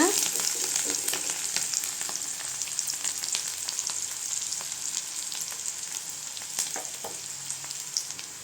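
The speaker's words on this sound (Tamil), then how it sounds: "வெங்காயம் நல்லா வதங்கிட்டுங்க" Onions sauté in a pan with curry leaves while a potato kulambu is being prepared, giving a steady, close sizzle broken by occasional scrapes and clicks of stirring.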